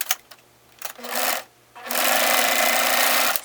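Sewing machine stitching a blouse seam, a short burst of fast whirring, a pause, then a longer steady run of rapid needle clatter, close and alone.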